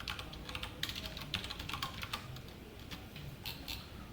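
C code is typed on a computer keyboard in rapid, uneven bursts of crisp key clicks, close and fairly quiet, continuing throughout with no talking.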